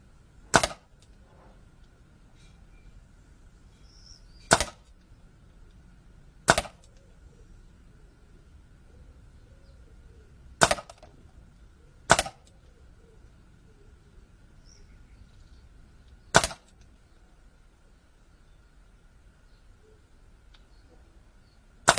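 An Artemis CP400 air rifle fires pellets, giving seven sharp, isolated cracks spaced several seconds apart against a quiet outdoor background with faint insect and bird sounds.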